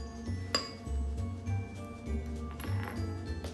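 A spoon mixes hot pepper jam and cream cheese in a bowl, giving faint, irregular clinks and soft scraping at close range over quiet background hum.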